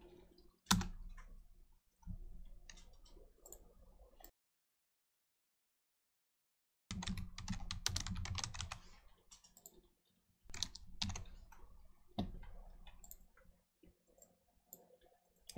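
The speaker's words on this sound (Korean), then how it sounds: "느낌표하고 엔터 치고요." Typing on a computer keyboard while setting up a CSS file, with scattered key clicks and short bursts of rapid tapping separated by a silent pause, close and fairly quiet.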